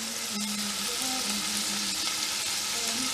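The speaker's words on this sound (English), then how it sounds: "While this is cooking and browning, and we're going to cook this just like we cook bacon." Bacon browning and sizzling in a pan for beef bourguignon, a steady close, loud frying hiss with faint crackles, alone without talk.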